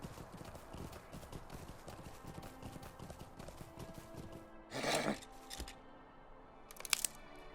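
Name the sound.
horse riding hooves in video game Lord of the Rings Online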